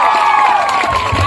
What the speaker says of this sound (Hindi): तो मम्मी के लिए जोरदार ताली बजाइएगा आप लोग।